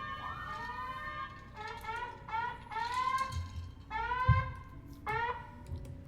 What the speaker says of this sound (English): If we ever forget it's Friday, these alarms will warn us.